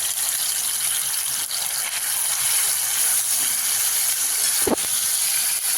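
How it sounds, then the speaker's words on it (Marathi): Chopped tomato and onion roasting in oil in a pan for a Kolhapuri egg curry, a continuous broad hiss of frying with one short stir or clink, no talking. "आता आपण ही बारीक करून घेतलेलं टोमॅटो आणि कांदा टाकून घेऊया लाल होईपर्यंत ह्याला भाजून घेऊया"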